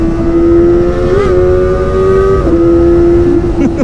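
Kawasaki ZX-25R motorcycle with a Prospeed Shark Black exhaust revving hard and close, a loud sustained high-rpm wail with small pitch shifts that rise and dip, no voices.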